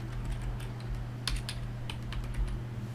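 Python code typed into a Jupyter Notebook code cell on a computer keyboard: scattered soft key clicks, a few sharper taps, sitting over a constant low hum.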